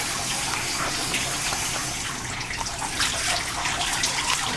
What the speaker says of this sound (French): Je vais rincer votre dos maintenant.